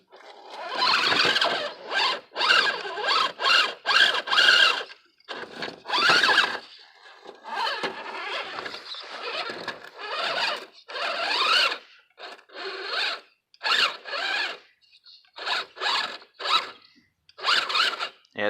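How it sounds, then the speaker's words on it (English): A Futaba servo strains on a Tamiya F150 4x4 RC stadium truck, giving repeated high whining, squealing bursts of varying length with short gaps between them, loud and near, over about eighteen seconds. "That poor Futaba servo is not liking this"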